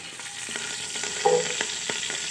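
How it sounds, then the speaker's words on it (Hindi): Onions frying in hot ghee for pea pulao sizzle steadily and close by, with scattered crackles and pops and the scrape of stirring. "तो अब मैं इसमें डाल रही हूँ प्याज।"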